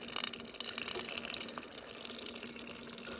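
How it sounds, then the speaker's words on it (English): Tap water runs into a container, a fluctuating splashy stream with a rising, filling tone, close but fairly quiet and heard alone. "And that is tap water."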